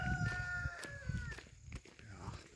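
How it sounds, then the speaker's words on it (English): A chicken clucks and calls in short rising notes near a rural path, mixed with footsteps and rustling, fairly close but not loud. "you can hear chicken"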